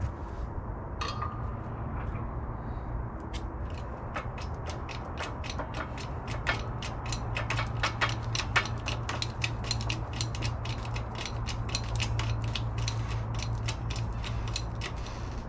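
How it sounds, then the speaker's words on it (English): A shop press forces a lubricated bushing and spacer into place on a K20a2-swapped EF sedan, with repeated sharp ratcheting clicks and creaks that quicken and grow louder partway through. "lubricate the inside, the bushing, and the spacer, and then we'll use the press to press this all in"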